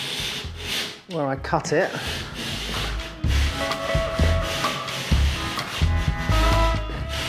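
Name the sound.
surform rasp shaving wood off a ceiling board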